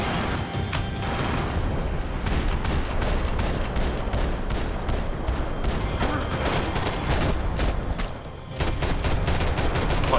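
Sustained gunfire in the video game Max Payne, a dense continuous barrage of shots and rapid automatic bursts, loud and unbroken apart from a brief dip near the end.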